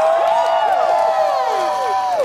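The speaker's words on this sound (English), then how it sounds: "Give yourselves a round of applause." Protesters at an Occupy Philly die-in at a PNC Bank cheer and whoop together in a loud, sustained crowd roar with many overlapping rising and falling voices, and only light clapping mixed in.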